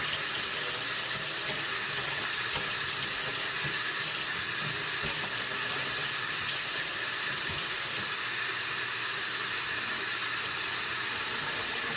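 Tap water runs steadily into a sink while conditioner is rinsed out of a U-part wig, a continuous close hissing stream with no talking.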